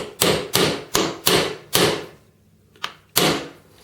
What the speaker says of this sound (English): I'm using this bolt so I don't whack the track with a hammer.